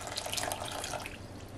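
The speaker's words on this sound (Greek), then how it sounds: "θα βάλω 350 γραμμάρια νερό καυτό" Hot water poured into a pot holding sugar, a steady splashing stream that stays close and constant throughout.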